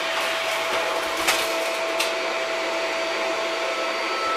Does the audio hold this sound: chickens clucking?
no